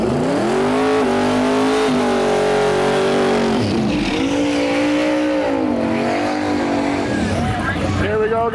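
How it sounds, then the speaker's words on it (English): Twin-turbo big block Chevy drag car on 235 radial tires making a pass at a Sick Week drag race, loud sustained engine roar rising and shifting in pitch, with a voice talking over it. "ldon Root out of Winnipeg, Manitoba, Canada, getting his first pass underway at Sick Week."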